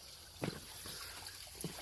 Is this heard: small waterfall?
yes